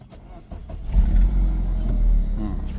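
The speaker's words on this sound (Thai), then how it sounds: "เหยียบเบรกสตาร์ท" A BMW E36 with the M43 engine cranks briefly and catches on the first try, then settles into a loud, steady idle close by, with no talking over it.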